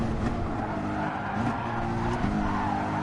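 Car in Gran Turismo Sport braking hard into a corner, engine drone under repeated short tire squeals and skids, close and steady with no talking.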